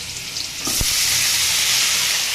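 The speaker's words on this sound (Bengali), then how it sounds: "এদিকে এই আলুটা বেশ ভাজা ভাজতে পারছি" Potatoes fry in a hot pan, a brief clatter giving way to a loud, continuous sizzle close by.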